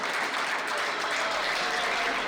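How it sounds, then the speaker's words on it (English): A crowd applauds Martin Mulkerrins' semifinal win at a Race 4 Eight event in Juarez, with steady, dense clapping that holds at an even level throughout. "the crowd puts their hands together for Martin Mulkerrins' 13th straight win in Juarez"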